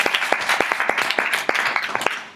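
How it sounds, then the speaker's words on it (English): A small audience at the Kenya IGF 2012 forum session on intermediary liability gives a round of applause for a panel speaker: crisp individual claps in an uneven, busy patter, fairly close, lasting a couple of seconds. "have a round of applause for him"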